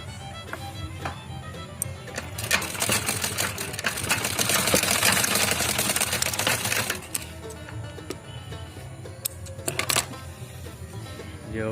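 Sewing machine stitching a petticoat seam with a chalk-marked allowance, a rapid mechanical whirring burst of stitching in the middle, preceded and followed by softer clicks and handling of cloth, close and clear, no talk.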